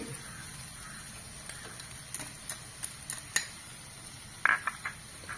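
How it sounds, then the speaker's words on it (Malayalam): Onions sautéing in a pan for a prawn ball curry give a soft, steady sizzle, with sharp utensil clinks and taps scattered through the second half. "എന്നിട്ടൊന്ന് കുറച്ച് നേരം വഴറ്റുക സവാളയൊക്കെ നന്നായിട്ട് വഴന്ന് വന്നിട്ടുണ്ട്"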